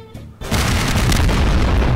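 A loud in-game explosion in Garry's Mod breaks out after a short quiet moment, then becomes a sustained, heavy rumbling roar.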